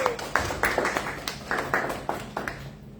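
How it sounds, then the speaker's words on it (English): Scattered claps from a small audience at a storytelling event at a book fair, roughly a dozen sharp hand strikes in a loose, uneven rhythm, moderately close, with faint background murmur. "Clap for him!"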